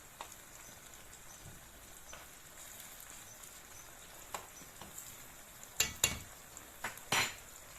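A fork taps and scrapes through eggs and garden tomatoes in a pan, giving faint scattered clicks that grow into sharper metallic clinks near the end over a low sizzle.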